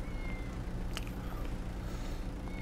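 A cat meows faintly against a steady background hum. The short calls stand out only briefly from the continuous noise.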